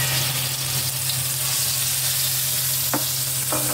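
Hot cooking oil for kaldereta sizzles loudly and steadily up close, a dense crackling hiss with a low hum beneath and a couple of faint clinks near the end.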